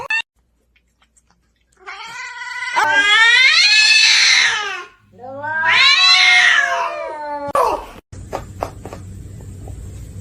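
Cats caterwauling and yowling in a fight, two long drawn-out wailing bursts close by, followed by a brief scuffle and a scratchy clattering noise at the end.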